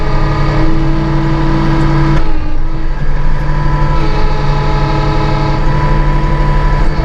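A Massey Ferguson 1835M compact tractor with an eHydro transmission holds its engine at raised RPM, a loud steady drone with a clear tonal hum that dips briefly partway through and then carries on, close by.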